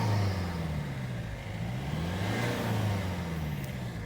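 A Maruti Suzuki S-Cross with a 1.6-litre turbocharged diesel of 118 horsepower runs, heard from the rear as a steady, low, droning engine hum with slight rises and falls, moderately loud and without voices.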